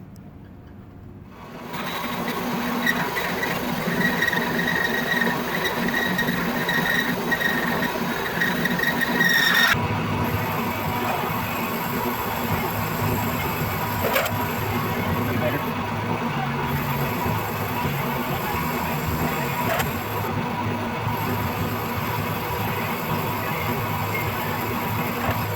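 Metal lathe turning down a 10 mm spacer, a steady whirring machine hum with a cutting rasp that starts after a brief quiet moment and runs continuously, with someone occasionally talking.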